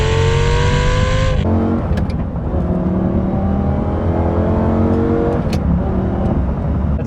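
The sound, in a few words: first-gen Lamborghini Gallardo 5-liter V10 engine revving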